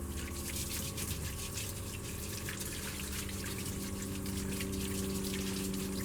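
Rainwater from a garden rain barrel pours steadily from a plumbed-in spigot, a constant close gushing flow with a low hum beneath it, running unbroken and without voices.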